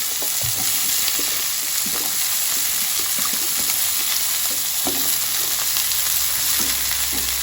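Eggplant, beans and potatoes frying together in a pan, with a loud, constant sizzle and crackle and light tapping and scraping of a spatula scattered throughout.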